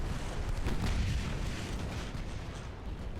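Heavy naval gunfire and shell impacts against a burning cruiser in the Ultimate Admiral naval warfare game, a dense rumbling barrage of booms that stays loud throughout with no talk over it.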